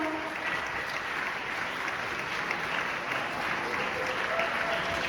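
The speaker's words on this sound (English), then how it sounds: "Let's give them another round of applause." A film festival audience gives a steady, dense round of applause for a group of film directors, sustained and even in level for the whole stretch without letup.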